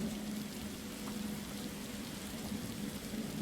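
Steady rain ambience plays as background atmosphere during a zombie horror tabletop role-playing session, a constant soft hiss of falling rain with a low hum underneath and no talking.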